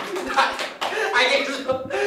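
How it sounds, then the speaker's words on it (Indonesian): A few people in a podcast studio clap, producing several sparse hand claps mixed with chuckles and ongoing talk, close to the microphone. "Tepuk tangan."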